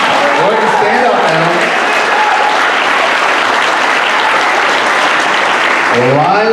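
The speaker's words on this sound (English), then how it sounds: "So a huge round of applause goes out to Alex Cruz in the Early Childhood Program." A loud, sustained round of applause for a student in the Early Childhood Program at a high school recognition assembly, dense clapping from a large crowd throughout, with a speaking voice heard at the start and end.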